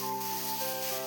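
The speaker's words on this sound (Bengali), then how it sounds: "পাঁচ মিনিট নেড়ে ছেড়ে ভালো করে ভেজে নেব।" Spinach with turmeric fries in a pan for Bengali palong shak, giving a steady, close, even sizzle with a faint tonal hum underneath and no talk.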